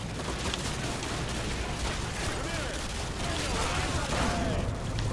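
Dense, continuous gunfire fills a Call of Duty: Modern Warfare 2 campaign battle, with heavy rattling bursts and explosions that barely let up, and shouted voices mixed into the chaos.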